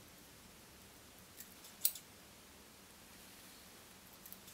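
A single crisp snip of scissors trimming excess material while a rubber-leg Stimulator fly is tied, quiet and close, with a couple of faint clicks around it in an otherwise hushed room.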